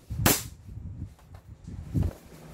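A non-upgraded airsoft gun loaded with 0.20 g BBs fires two sharp, close pops about two seconds apart over quiet background noise.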